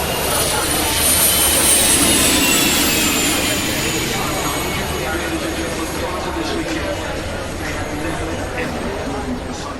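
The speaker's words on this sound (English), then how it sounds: "MTT Street Fighter, a motorbike equipped with a Rolls-Royce Allison gas turbine" A Rolls-Royce Allison helicopter gas turbine fitted to an MTT Street Fighter motorbike gives a loud, steady jet whine and roar with a high-pitched whistle that slowly eases off.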